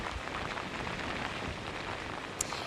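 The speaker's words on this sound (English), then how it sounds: "The rain is coming down much heavier than it was when we hit the road at 5:15." Heavy rain pouring at Sunset Beach, a dense, steady hiss of drops on surfaces that stays even throughout, close and without voices.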